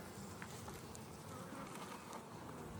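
Honey bees buzz around an opened Langstroth hive during an inspection, a faint, continuous hum of many insects close by, with no talk heard.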